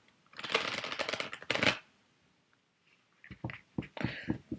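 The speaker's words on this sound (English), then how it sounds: "Let me just give the cards a good shuffle." Tarot cards being shuffled up close in two quick riffling bursts, followed by softer card taps and slides after a short pause.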